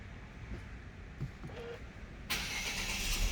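2021 Wuling Almaz Smart Enjoy CVT started by push-button smart key: quiet cabin with faint clicks, then the engine catches abruptly and settles into a steady idle hum.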